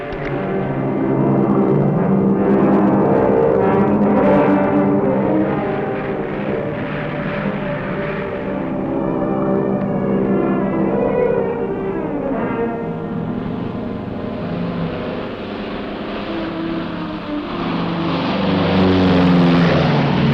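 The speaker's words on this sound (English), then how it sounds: "I wish he'd take his plane and fly somewhere else" A propeller airplane drones steadily overhead, loud and close, its engine pitch shifting slightly as it passes.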